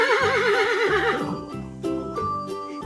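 A farm horse gives one loud, wavering whinny that falls away into snorts and short nickers, close by and heard alone.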